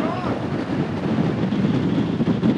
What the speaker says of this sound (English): the wind is absolutely blowing a gale right now